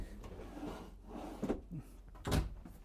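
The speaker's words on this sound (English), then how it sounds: "We got some really nice drawers down here below. All soft closing." Soft-closing wooden drawers in a 2026 Newmar Essex motorhome slide and settle with a few quiet, muffled thumps and rubs, close by and faint.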